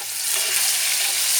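Spices with a little turmeric frying for a red lentil curry, a close, loud and continuous hiss of sizzling oil with faint stirring and no talk.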